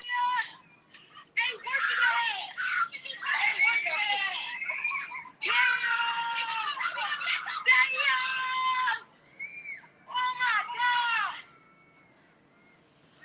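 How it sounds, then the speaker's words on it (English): A child screams outside a Chicago school after a woman and child were attacked, shrill and close, in long sustained high-pitched bursts with brief gaps across about thirteen seconds. "and the kid just screaming"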